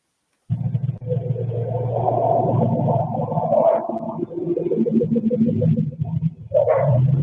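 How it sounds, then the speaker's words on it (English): Dogs bark at night near a home security camera, a run of close, loud barks and yips overlapping in a noisy cluster that continues almost without pause after a short silent start. "And the dogs obviously don't see it. They're barking over it."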